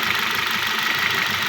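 2011 Hyundai H-1 engine knocking at idle, a steady close-up mechanical clatter with rapid even ticking over a continuous engine hum, loud and without voices.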